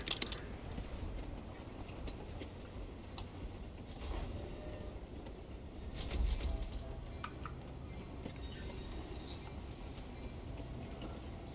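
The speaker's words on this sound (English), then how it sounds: "But this train's coming to pick it up." A train rolls along its loop in the rail-building video game Railgrade, giving a steady mid-level rumble with faint metallic clinks and a brief swell about six seconds in, with no speech.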